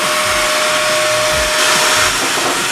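A Dirt Devil cordless swivel vacuum cleaner runs with a loud, steady motor whir and airflow rush, its pitch shifting slightly partway through, with no voices.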